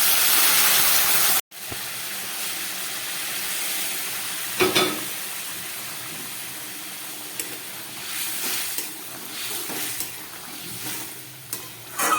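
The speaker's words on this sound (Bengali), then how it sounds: "এবার আমি এই জলটা ফুটে উঠেছিল, সেই জলটা আমি দিয়ে দিচ্ছি।" Boiled water poured into a frying potato and paneer curry: a loud rushing splash at the start cuts off, followed by a softer bubbling sizzle with occasional clinks of stirring.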